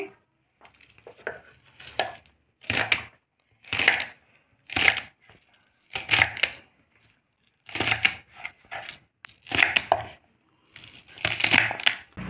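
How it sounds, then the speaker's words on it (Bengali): Onion stalks chopped into small pieces on a board for a prawn paturi, giving steady bursts of knife strikes in close, evenly spaced runs with short pauses between. "পেঁয়াজ কালিগুলো ছোট ছোট করে কেটে নিচ্ছি"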